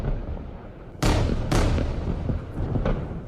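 Rockets fired from Gaza toward Israel: two sharp, loud launch blasts a half second apart, each followed by a roaring rumble that fades, then fainter distant bangs.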